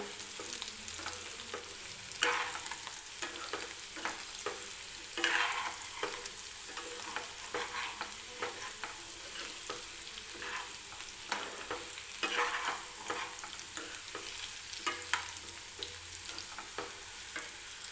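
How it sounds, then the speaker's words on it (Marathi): Potato pieces fry in oil in a kadhai, a soft steady sizzle broken by repeated scraping stirs of a spoon, quiet and close with no talking. "हलकासा गोल्डन रंग येईपर्यंत हा बटाटा आपल्याला परतून घ्यायचा आहे."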